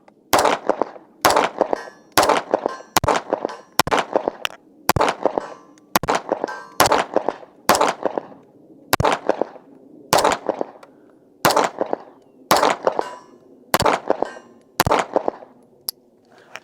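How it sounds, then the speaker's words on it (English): A string of sharp, loud gunshots from Infinity pistols at a range, single close reports with ringing tails, spaced irregularly about a second apart, with brief pauses between strings and no talking. "It'll probably just be a montage of shooting these two Infinities."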